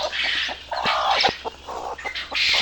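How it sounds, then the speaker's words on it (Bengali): Chickens and small chicks on a poultry farm cluck and chirp in repeated short calls, fairly close and continuous, with no talking. "এই যে মুরগির বাচ্চা, দিকে দেখি কয়টা বাচ্চা"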